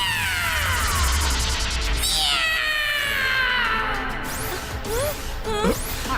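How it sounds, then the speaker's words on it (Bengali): A cartoon cat meows in a string of drawn-out, pitch-sliding calls, some yowling and caterwaul-like, loud and close against a musical background. "মিয়াও মিয়াও ডেকে আমি ম্যাও ম্যাও ম্যাও ম্যাও"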